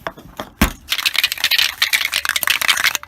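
A spray paint can is shaken hard in a garage during a Hyundai Tiburon strut bar restoration, a fast loud rattling of the mixing ball against the metal can, running for about three seconds with no voices.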